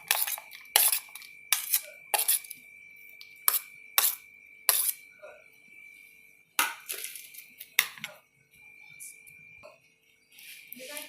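Chopped onions tipped into a bowl with a series of sharp clinks and taps of a utensil against the dish, followed by softer rustling and scattered light knocks in a quiet kitchen.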